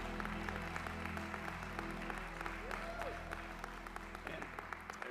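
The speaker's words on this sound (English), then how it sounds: "Come on and give the Lord your best hand clap of praise today." A church congregation claps hands in praise, a dense, continuous patter of many hands over sustained musical tones and a faint murmur of voices.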